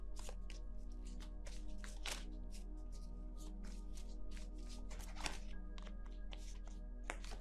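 Tarot cards being shuffled by hand, repeated soft riffling and tapping bursts at a quiet level over a steady low hum.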